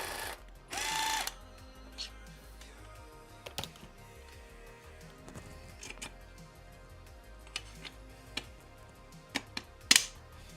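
Screws being driven into the frame corner pieces of an Annex Gasherbrum K3 3D printer, heard as faint ratcheting clicks and small metallic ticks scattered over a quiet background, with a brief louder burst near the start and end.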